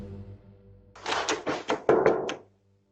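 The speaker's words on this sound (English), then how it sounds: "aggressively knocking on the front door while pretending to be a police officer" Rapid, forceful pounding on an apartment front door by a man posing as a police officer, a burst of heavy knocks and thuds lasting over a second, close and loud, then abrupt silence.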